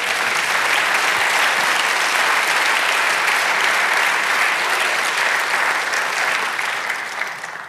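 A church congregation applauding for several seconds in a sustained, dense burst of clapping that fills the room, loud and steady before tapering slightly at the end.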